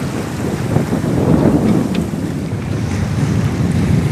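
A sailboat running easily at about 5.5 knots under a pulled-out genoa in light wind chop and small swell: steady broadband rush of wind buffeting the microphone over continuous water wash, with no talk.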